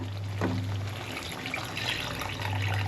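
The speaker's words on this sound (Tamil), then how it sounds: "இப்போ நம்மளுக்கு தேவையான அளவுக்கு தண்ணி ஊற்றிக்கலாம்" Water pours from a vessel into a pot of chicken curry with sautéed onions and tomatoes, a close, continuous gurgling splash lasting a few seconds with no talking.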